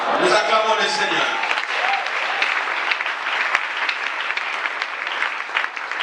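A church congregation breaks into sustained applause, dense clapping that swells after a few spoken words and carries on steadily, with voices mixed in.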